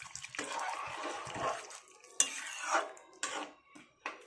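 Water being stirred into moong dal cooked with fish head in a pot, with a spoon scraping and clinking against the metal and liquid sloshing in a few separate bursts, close and moderately loud, with no talk.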